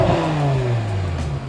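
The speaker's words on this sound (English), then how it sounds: "Just gonna give her a couple of quick revs before we leave" A BMW M6 with a V10 engine and F1-style exhaust revs once, then the engine note winds down steadily from a loud, nearby peak.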